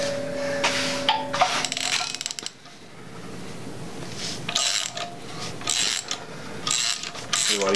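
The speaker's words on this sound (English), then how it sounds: "now I gotta loosen that bolt more" A ratchet works a bolt loose during a teardown of an LS 5.3L engine, with bursts of rapid clicking separated by pauses and a faint metallic creak, close up with no talking.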